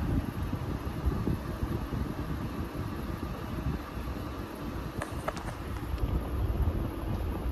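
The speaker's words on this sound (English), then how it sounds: "You can hear the refrigerant. It is working hard." A Midea air conditioner runs hard on a scorching heat-wave day, giving a steady broadband whoosh and rumble like rushing air, with faint clicks near the end and no talking.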